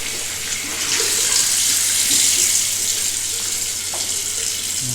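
Water runs from a leaking tap that was just repaired with a tap reseating kit, making a steady, close hiss of flow that carries on without a break and with no voices.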